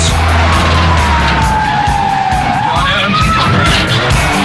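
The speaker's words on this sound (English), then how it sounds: "The suspect spins out trying to take a hard right." A stolen car at high speed spins out on a hard right turn, with loud continuous tire skid and engine roar dominating throughout, a siren-like wail sweeping through the noise.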